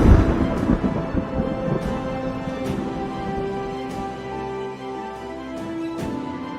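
Deep rolling thunder, a loud continuous rumble that swells at the start and keeps grumbling, with faint sharp crackles recurring throughout.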